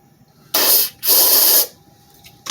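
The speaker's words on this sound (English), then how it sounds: "Spark plug's out, so I'm going to go ahead and spray a little bit of carb cleaner or something in there." Carb cleaner sprays from an aerosol can into the spark plug hole of a 5 hp Briggs and Stratton engine in two loud, steady hissing bursts, the second longer, then a faint click.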